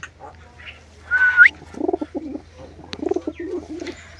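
Pigeons in a loft, one sitting on an egg, give soft low repeated coos up close, preceded by a brief high whistling bird call, with no talk.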